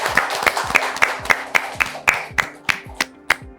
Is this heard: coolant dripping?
no